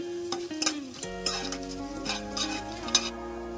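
Whole spices, including star anise, cardamom, shahjeera, poppy seeds, cinnamon and bay leaves, frying in a pot for mutton kheema pulao: soft sizzling with spoon stirring and clinks, under a steady tonal hum.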